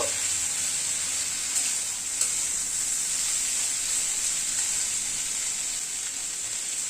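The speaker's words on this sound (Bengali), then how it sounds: "আদা বাটাটাকে একটুখানি নাড়াচাড়া করছি" Ginger paste sizzles in a hot pan while being stirred, a continuous even hiss with faint scraping ticks and no voices.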